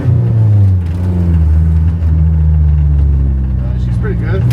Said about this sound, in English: This is the first time I've driven this car in a while, especially with new suspension as well.